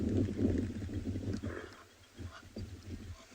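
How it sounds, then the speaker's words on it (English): A hippo calls at sunset on safari, a low rumbling series of grunts from a moderate distance, fading into faint background sounds. "Ooh, that was a hippo."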